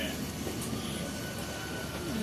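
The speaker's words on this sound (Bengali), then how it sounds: "ট্রেনটি ধীরে ধীরে এই স্টেশনকে কাটিয়ে আবার চলতে শুরু করলো।" A train moves slowly past Tikiapara station on the route from Kolkata to Kanyakumari, a steady rumbling roar of wheels and carriages heard from on board, with faint voices in the carriage.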